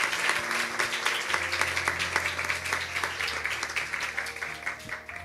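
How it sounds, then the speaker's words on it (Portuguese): An audience claps in encouragement, producing dense, steady applause that holds at an even level for several seconds over a faint low hum. "Uma salva de palmas de encorajamento."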